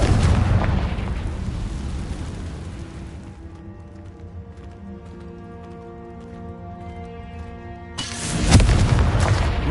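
Confringo blasting spell explosion in the Hogwarts Legacy video game: a loud, broad burst at the start that decays into a ringing tonal tail, then a second heavy blast near the end.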